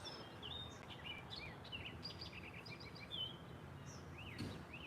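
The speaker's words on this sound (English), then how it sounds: "I think the bird that just landed in this tree, you can hear him" A black and yellow bird sings from a tree beside a fishing spot, giving a string of short high whistled notes and chirps over a faint, steady outdoor background with insects.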